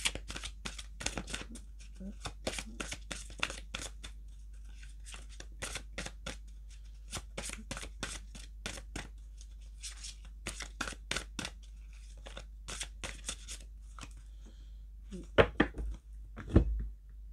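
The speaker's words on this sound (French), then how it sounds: "je vais mélanger mes cartes" Oracle cards are shuffled by hand in rapid, dry riffling bursts, close and quiet, with short pauses and a low hum underneath.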